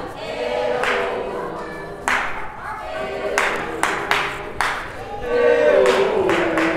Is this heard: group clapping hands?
yes